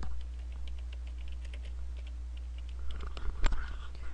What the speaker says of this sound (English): So let me type in Linkin Park.